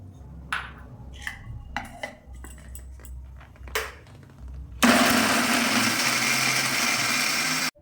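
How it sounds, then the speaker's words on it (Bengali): A mixer grinder blitzes fresh coconut with cashews and almonds, starting abruptly after a few clinks and taps and running as a loud, steady whirring roar to the end. "এইভাবে সব নারকেলগুলো মিক্সিতে আমি বেটে নেব।"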